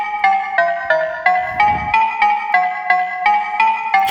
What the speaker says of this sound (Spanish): El sonido de desplazamiento es la campanita.